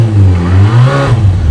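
Motorbike engine revving hard during a burnout, a loud sustained near roar that climbs and wavers in pitch, then turns rougher toward the end.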